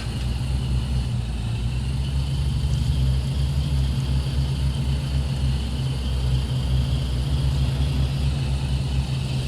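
A vehicle in the game Foxhole drives slowly along a road with a steady, loud, low engine drone that holds constant throughout, without talk.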